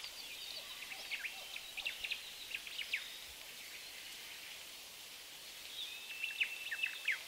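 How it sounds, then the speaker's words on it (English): Birds chirp and trill in a played jungle-style ambient soundscape, with repeated high calls clustered near the start and again near the end over a faint, steady background hiss. "there's definitely bird chirping in this"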